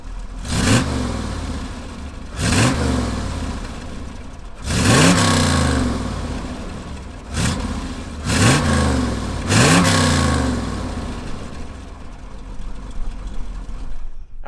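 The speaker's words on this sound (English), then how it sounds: "Let's fire up this 427 and hear what it sounds like." A 1966 Corvette Stingray convertible's 427 V8 starts and then revs hard five or six times, each loud blip rising and falling back to a rough idle, close by with no talking.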